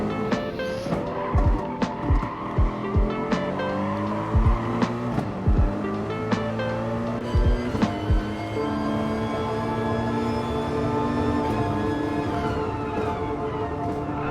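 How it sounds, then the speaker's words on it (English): Race car engine from the Gran Turismo Sport video game, racing in an online qualifying test event, howling and shifting through gears with changing pitch, sharp tire squeals and skids, loud and continuous throughout, with a faint voice underneath. "We're inside the car now"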